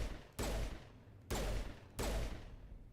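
Mass Effect video game gunfire: three loud, separate bursts, about two-thirds of a second apart, each a sharp crack followed by a rumbling decay, with no talking.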